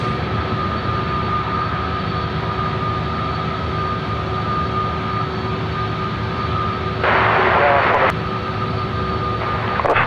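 A BAe 146 taxis onto the active runway at Sydney Airport, giving a steady mid-level jet whine with a sustained tonal hum, and a brief louder burst of noise near the end.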